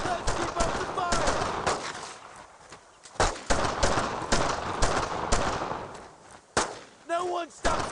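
Rapid bursts of gunfire from the World War II shooter Brothers in Arms: Road to Hill 30, sharp loud cracks arriving irregularly and sometimes in quick strings, with shouted voices in the mix.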